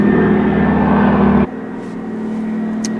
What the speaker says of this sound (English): Okay, airplane.